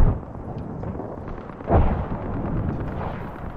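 Gunfire from Apex Legends, heard as a few muffled, distant shots and bursts with a heavier thump midway, all under a dull, low game ambience.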